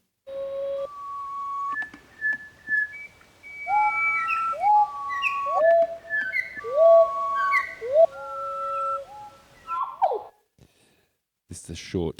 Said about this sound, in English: This is a nightingale.